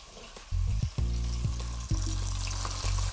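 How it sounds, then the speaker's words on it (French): Beef shank hitting a hot pan and browning, with loud close sizzling that flares up in bursts as the pieces are added and turned, crackling steadily in between. "on va ajouter notre beau jarret de bœuf. Et on va laisser dorer juste 1 minute en retournant à chaque moment."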